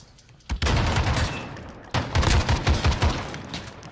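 Bursts of automatic gunfire in the multiplayer shooter Modern Warfare (2019), likely from an L86A1 light machine gun or Desert Eagle: a loud volley from about half a second in, a short pause, then another rapid, rattling stretch of shots.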